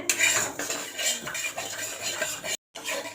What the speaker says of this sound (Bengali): দেখুন বন্ধুরা সুজিটা এরকম ঝরঝরে করে ভেজে নিতে হবে একবারে লাল করে